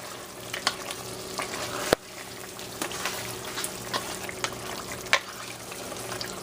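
Liver pieces frying in a pan as salt is stirred through, with a steady low sizzle and scattered scraping clicks from the spoon, close and moderately loud, no voices.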